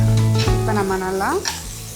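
Green capsicum, beans and carrots being stir-fried for millet noodles, a steady sizzle with scraping stirs in the pan, close and continuous with no talk.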